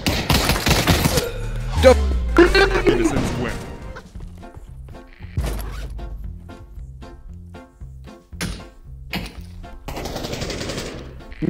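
Gunfire in a VR Trouble in Terrorist Town match, bursts of loud rapid shots up close, then scattered single cracks and bangs, with someone briefly talking between them.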